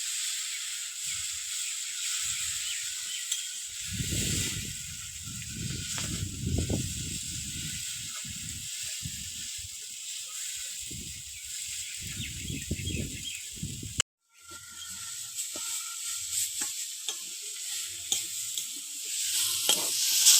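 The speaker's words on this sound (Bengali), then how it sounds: "এইভাবে নাড়াচাড়া করতে করতে শাকটা ভাজা হয়ে যাবে" Tender spinach-like greens and shrimp stir-fried in a wok, a constant close hiss of frying with repeated scraping and stirring strokes, briefly cut off near the end before the sizzle resumes.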